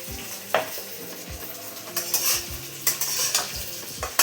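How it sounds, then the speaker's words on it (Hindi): Carrots stir-fried for gajar halwa, with a soft sizzle beneath repeated loud scraping and clanking of a metal spoon against the pan, irregular strokes close by. "तो हम अच्छी तरह से गाजर को भून लेंगे।"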